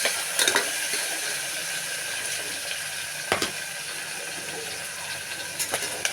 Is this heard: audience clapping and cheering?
no